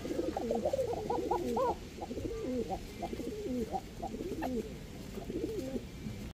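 Bashiraj Koka pigeons coo close by in soft, rolling, repeated phrases, several overlapping at a gentle rhythm against a quiet background.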